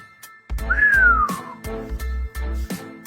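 A single gliding whistle rises then falls away, set against thumping, rhythmic background sounds with no voices.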